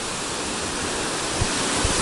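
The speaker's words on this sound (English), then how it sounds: "But pretty cool waterfall." Steady, loud rush of Burney Falls waterfall with a dense broadband roar, continuous throughout with no voices.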